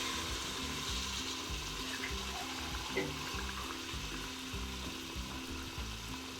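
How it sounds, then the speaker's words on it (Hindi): Water from a glass pours into a pan of frying potatoes and peas, a steady sizzling hiss with bubbling and a rhythmic crackle, close and alone without talk. "अब इसके अंदर हम 1 गिलास पानी का शामिल कर रहे हैं।"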